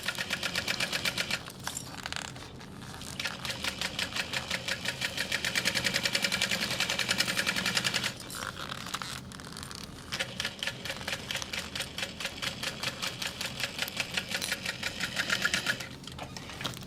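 A sewing machine stitches a bag seam with a fast, even mechanical chatter. It runs in several close, steady bursts, broken by short pauses where the stitching stops.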